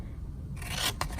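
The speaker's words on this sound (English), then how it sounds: "we're going to take our scissors and cut up to the score line on every one of these" Scissors snipping through paper up to a score line, a short close scraping cut with a couple of crisp snips, alone and fairly loud.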